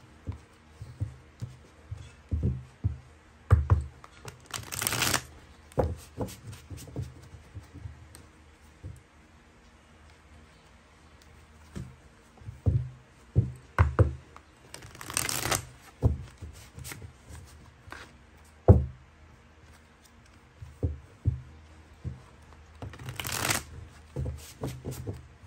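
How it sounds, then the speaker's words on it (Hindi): Tarot cards are shuffled from a deck in soft, quiet bursts of riffling and tapping, with three louder riffles spread across a long, otherwise calm stretch. "चलिए दूसरे डेक से भी हम निकालेंगे ऐसे ही।"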